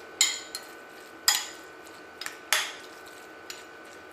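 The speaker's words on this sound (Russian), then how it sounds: "добавить сюда капусты," Cabbage being mixed with pepper and salt in a bowl for stuffing carp, heard as a few sharp clinks of a utensil against the dish at irregular intervals, close and otherwise quiet.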